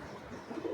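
Pigeons, Giribaj and Teddy fliers, give a soft low coo that swells near the end of a brief stretch, close by and fairly quiet.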